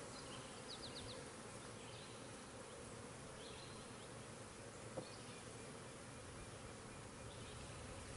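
Steady, dense buzzing of many honey bees swarming nearby during a hive inspection, a continuous drone with no pauses and no voices.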